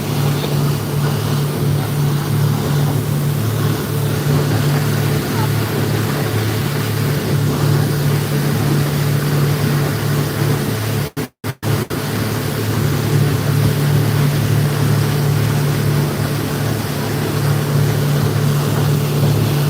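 Speed boat engine droning loud and steady while cruising around Komodo island, with wind and water noise and a brief sharp dropout midway.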